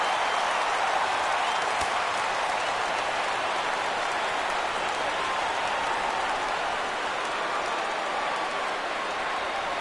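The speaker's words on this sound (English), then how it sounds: "Crowd gets up for the 3-2." Stadium crowd in the MLB The Show baseball video game roars steadily at a full count, a dense wash of cheering and clapping that stays loud and even throughout.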